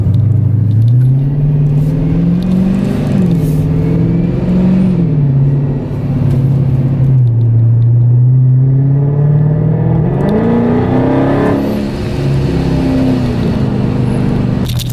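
Supercharged Dodge Scat Pack pulling on an open road, a steady loud engine drone heard from inside that rises and dips through gear changes over fifteen seconds, with no talking.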